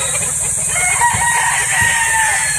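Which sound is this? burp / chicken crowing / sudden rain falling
chicken crowing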